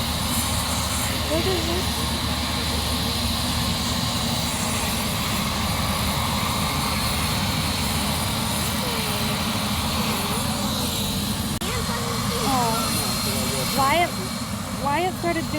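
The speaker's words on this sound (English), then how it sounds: "Say bye-bye, helicopter." A helicopter near a local park gives off a constant loud engine and rotor roar that runs through the whole clip. A child and an adult speak over it.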